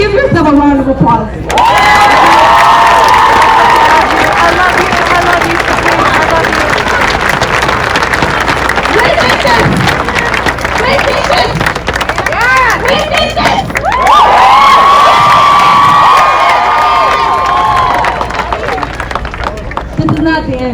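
Protest crowd at a Black Lives Matter rally in Los Angeles applauding and cheering loudly and continuously, with whoops and shouts rising over steady clapping, swelling again near the end.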